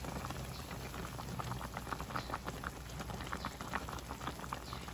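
Sinigang soup bubbling in a pot, a dense, steady simmer of popping bubbles heard up close and continuing without a break, with no one talking.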